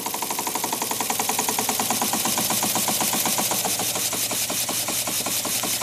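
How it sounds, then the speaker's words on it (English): A small air-powered model radial engine machined from bar stock runs steadily on compressed air, a rapid, even mechanical chatter of ticking pulses close to the mic with no talk over it. "These little engines are self-starting."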